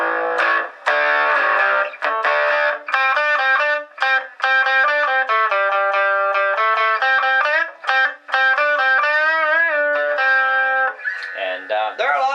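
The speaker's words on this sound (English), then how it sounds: "we all like a bit of overdrive, we all like our breakup, we all love our distortion" An electric guitar plays through a distorted Marshall MS-2C mini amp, with a run of gritty overdriven single notes and chords in a steady melodic line, loud and close, with no talking.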